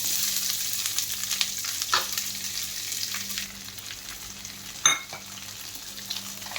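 Two large chopped onions fry in a pan for spicy tomato rice, a constant close sizzle with occasional stirring scrapes and a low hum underneath, no one speaking.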